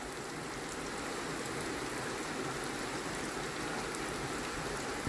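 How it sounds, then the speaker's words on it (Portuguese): Heavy rain pours down at a rural farm property in Currais Novos, a dense, even roar that holds steady without a break and with no voices. "Chegando as chuvas aqui em Currais Novos, na zona rural"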